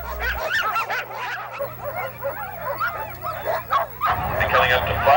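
Alaskan sled dogs at a mushing race bark and yip excitedly in a rapid, overlapping chorus, loud and close, with a faint low hum underneath.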